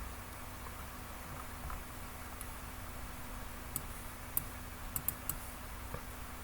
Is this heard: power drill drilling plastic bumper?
no